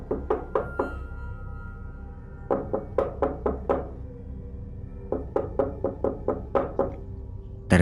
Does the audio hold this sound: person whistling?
no